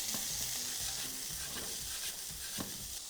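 Italian sausage dropped into a hot pan with oil and a garlic clove, a dense bright sizzle that stays loud and close, with a few soft knocks and stirring sounds, no talking.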